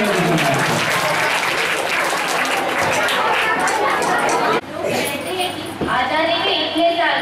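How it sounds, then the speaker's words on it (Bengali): Loud, dense audience applause fills the hall at a school cultural programme, with chatter and children's voices mixed in, briefly dipping before the clapping surges again. "জোরে হাততালি প্রথমে"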